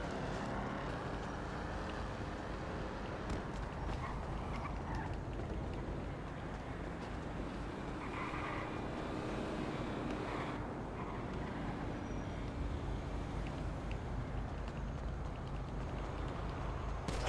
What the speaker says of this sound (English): I can hear the engines.